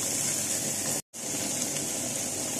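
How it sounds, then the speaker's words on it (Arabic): Water heating in a pot on a stove for cooking cow trotters gives a steady, close hiss and rush with one brief gap, heard alone. "انا هنا على فكره بغلي ميه علشان هزود بيها الايه الكوارع."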